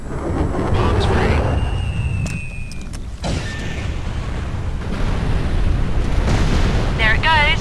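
Bombs hit their target in a video game with heavy rumbling explosions and roaring wind-like blasts. The roar swells and fades over several seconds, and faint radio voices and whistling tones sound in the background.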